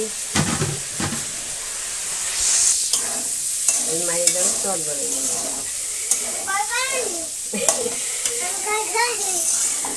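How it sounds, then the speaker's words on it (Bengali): Potatoes frying in a pan with a constant bright sizzle and occasional stirring clatter, while voices talk over it throughout. "আলুটা ভাজা হচ্ছে"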